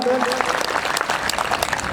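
Crowd applause at an outdoor election rally welcoming candidate Puran Chand, a dense steady wash of clapping lasting throughout, with a voice briefly audible at the start.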